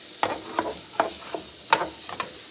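Steak sizzles in a hot pan while cheesesteaks are being made, a steady frying hiss broken by several sharp scraping stirs and spatula taps at close range.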